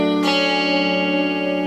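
A distorted electric guitar chord struck once and left ringing, sustained and buzzing with a slight shimmering effect.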